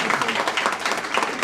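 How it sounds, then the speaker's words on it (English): Audience members at a Rotary club gathering clap in a brief, dense burst of applause that stays loud and even throughout. "I know you were clapping"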